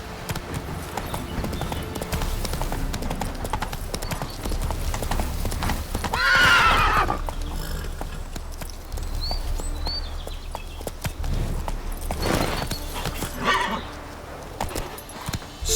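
Roach the horse gallops in The Witcher 3, a steady rhythmic clip-clop of hooves with a loud neigh partway through and another whinny later.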